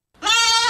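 A single goat bleat sound effect, loud and close, one drawn-out nasal cry lasting under a second.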